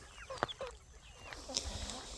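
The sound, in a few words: chicken clucking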